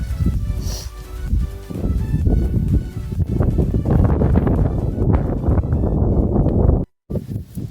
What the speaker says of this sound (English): The wind is so picked up here.